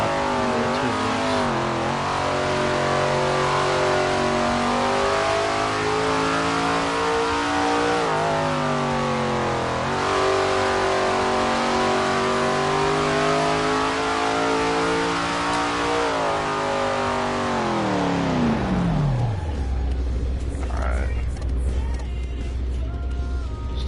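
A car engine in a PS4 racing game revs steadily for nearly twenty seconds, rising and shifting pitch through gears, then winds down sharply to a low idle.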